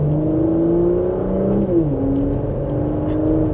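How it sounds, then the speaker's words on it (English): A 2026 Porsche Macan S drives along with a steady engine whir and a pitch drop as it shifts, with a low exhaust burble beneath, close and moderately loud throughout. "You have some gurgles in that exhaust."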